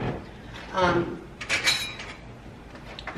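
A non-stick pot and a non-stick grate from a Ninja Speedi cooker are handled, producing a few close metallic clinks and knocks under and between bits of talking.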